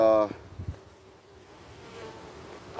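Honey bees buzz faintly around an open hive during an inspection, with a louder close pass at the start fading into a soft background drone.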